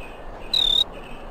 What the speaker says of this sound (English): Oh man, now there's crickets everywhere!